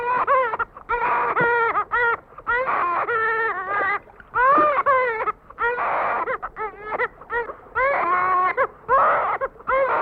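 A young child cries and wails in repeated long, drawn-out sobbing bursts with brief gasping pauses, loud and close, continuing throughout; no adult speech is clearly heard.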